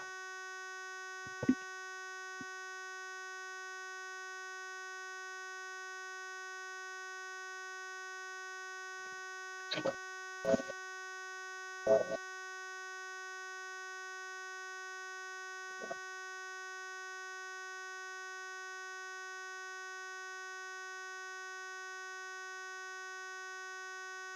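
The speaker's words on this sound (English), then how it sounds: "There is a beeping sound." A steady electronic tone hums throughout while a handful of short beeps sound in scattered clusters, with long quiet gaps between them.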